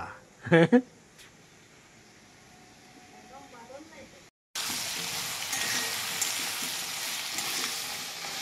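Eggplant frying in fish oil in a home kitchen gives a steady sizzle that cuts in loudly midway after some earlier clatter and a quiet stretch.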